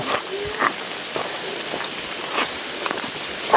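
Steady rain falls in a dense, even hiss, with a few sharper drops and taps scattered through it and no voices.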